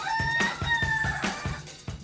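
An Ayam Ketawa laughing chicken crows up close in a long, loud call broken into a rapid series of rhythmic, stuttering pulses, heard alone with no talking.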